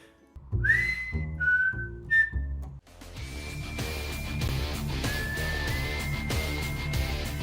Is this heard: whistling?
yes